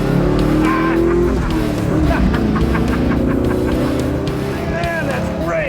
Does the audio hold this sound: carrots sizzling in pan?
no